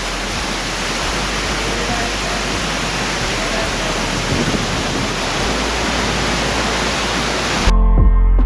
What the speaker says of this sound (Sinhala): ළඟටම ඇවිල්ලා තියෙන්නේ මේකෙන් ඇල්ල.